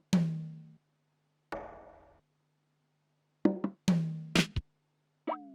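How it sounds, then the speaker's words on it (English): A dry percussion fill for an FL Studio sample beat: a sparse handful of separate hits, some ringing briefly and others short knocks, with silent gaps between them, then a quicker cluster of strikes near the end. "I used a bong, a tom, a congo, a noise, and some fill that sounds like this dry"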